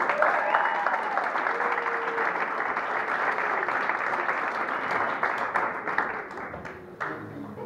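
Studio audience on a game show applauding and cheering loudly as contestants are brought in, dense sustained clapping with whoops and shouts, fading slightly near the end.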